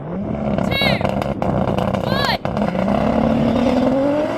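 Drag race launch of an 1100hp GT-R, a Porsche 911 Turbo S and a rallycross car, loud engines roaring and revving hard with rising pitch as they accelerate, people shouting excitedly over the noise.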